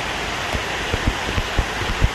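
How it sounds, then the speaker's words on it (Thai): Punyaban waterfall in Lam Nam Kraburi National Park, Ranong, running full, gives a steady broad rush of falling water with scattered splashes and low thumps, close and alone without talk. "น้ำตกนี่ก็สูงไม่ธรรมดาเลยนะครับ"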